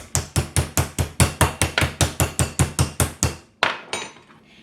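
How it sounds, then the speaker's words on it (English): A meat mallet pounds raw chicken breast flat on a board in a rapid, even series of about fifteen loud, close thuds, then a final looser knock and a short scrape. "I like to give it a little bit of a hammer just to help thin it out a little bit"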